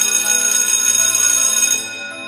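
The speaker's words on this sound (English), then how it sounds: "The bell rang" A school bell rings in one steady, bright metallic peal lasting nearly two seconds before cutting off, loud and alone.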